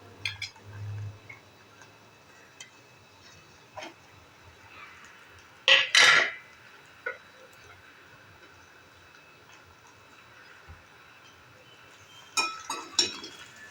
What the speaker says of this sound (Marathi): आपण याच्यामध्ये आता गरे घालून घेऊया।